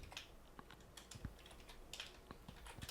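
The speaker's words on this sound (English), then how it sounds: "Right here, we're going to type" Typing on a computer keyboard while writing JavaScript code, heard as a quick, light run of close key clicks with no talking.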